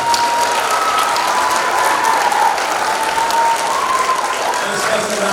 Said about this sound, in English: clap louder than that